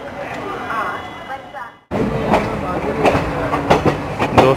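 The Punjab Mail express rolls into Jhansi Junction, its wagons rumbling and clacking over rail joints in irregular bursts after a brief quiet moment, with voices talking over the noise nearby.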